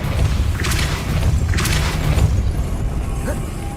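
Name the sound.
Depulso spell cast in Hogwarts Legacy video game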